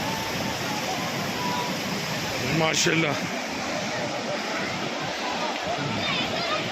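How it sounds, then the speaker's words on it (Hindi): Mountain river water rushing downstream in heavy volume beneath a bridge, a loud constant roar of turbulent flow filling the scene, with a brief spoken exclamation near the middle. "पानी देखो कितनी तादाद में नीचे जा रहा है"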